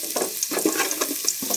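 Garlic dropped into a hot pot of oil fries with a steady close sizzle and crackle, broken by a few soft stirring scrapes and clinks, with no talking.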